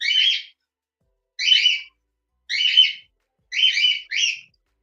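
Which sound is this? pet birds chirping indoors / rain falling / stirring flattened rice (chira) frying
pet birds chirping indoors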